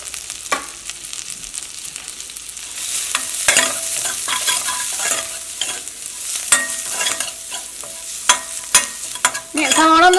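Sliced onions with coriander leaves and green chillies sauté in a hot pan for egg Maggi masala. A steady sizzle runs under repeated scraping stir strokes, close and fairly loud.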